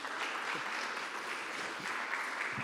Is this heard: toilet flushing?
no